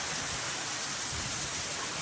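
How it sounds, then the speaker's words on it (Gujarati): Heavy rain in a summer windstorm near Kheralu, a dense continuous roar of pouring water with a steady rushing hiss and no voices. "ભારે વાવાઝોડું વરસાદ ચાલુ થઈ ગયો જોરદાર વરસાદ અને વાવાઝોડું આવે છે"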